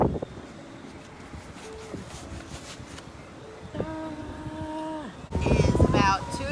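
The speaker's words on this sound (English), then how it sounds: "ooh, it's windy, blowing the camera around." Gusts of wind buffet the microphone in a garden during potato planting, with low rumbling noise, while a voice talks over it and a faint whine rises in the background.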